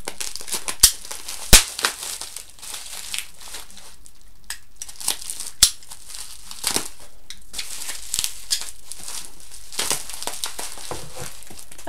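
Crinkling, tearing and crushing of packaging as a box-cutter opens a well-wrapped bottle of Jade pure malt blonde beer, with sharp close crackles and rips scattered through the stretch and no talk.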